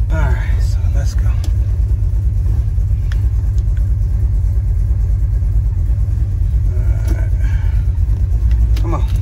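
A Chevelle with a 454 engine idles with a loud, constant low rumble while its transmission is shifted into drive. The engine noise is continuous, and a few faint clicks and knocks sound over it.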